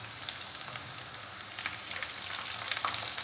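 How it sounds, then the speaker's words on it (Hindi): Ginger pieces drop into hot oil for a spicy whole masoor dal, giving a steady, close, crackling sizzle with sharp spattering pops that grow a little busier toward the end; no one speaks. "ये अदरक है ना ये छींटे मारेगा"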